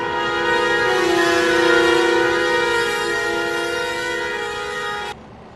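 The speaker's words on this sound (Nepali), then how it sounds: "यसको 3rd नम्बरको यो हर्न चाहिँ यस्तो रहेको छ।" Third horn option in a Nepali traffic mod for a video game, a sustained multi-tone horn like a train horn sounding steadily for about five seconds, loud and alone, then cutting off abruptly.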